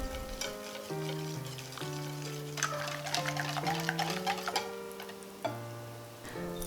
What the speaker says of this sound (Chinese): 这个时候我们可以把牛奶倒进之前搅拌好的蛋黄面糊里面， 然后把它搅拌均匀